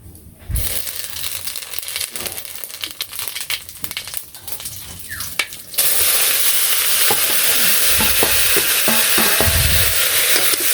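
Curry stir-fried with ginger-garlic paste, chopped onion, green chili, salt, turmeric and chili powder, first scraped and clinked in the pan, then breaking into a loud, steady sizzle as everything hits the hot oil.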